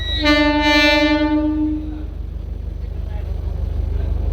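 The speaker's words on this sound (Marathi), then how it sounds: "परी Vaijnath Sangli demo express Kurduwadi जंक्शनवरती arrival करत आहे" A Parli Vaijnath–Sangli DEMU express pulls into Kurduwadi Junction. A loud, close horn blast sounds for about two seconds, then gives way to a steady low rumble of the train.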